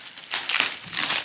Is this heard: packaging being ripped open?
yes